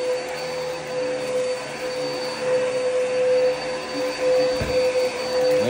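A carpet-cleaning vacuum that has lost suction runs steadily and loudly from start to finish, giving a constant motor whine with a sustained tone and broadband rushing air, with a brief low thump near the end.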